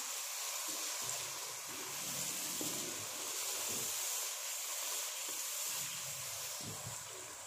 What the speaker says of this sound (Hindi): अब हम 5 मिनट तक इनकी भुनाई करेंगे।